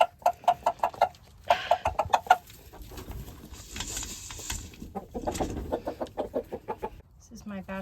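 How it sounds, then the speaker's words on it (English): Roosters in a bachelor pen cluck in short rhythmic bursts, close and fairly clear, with a stretch of rustling and softer mutters between the calls. "Hello, roosters."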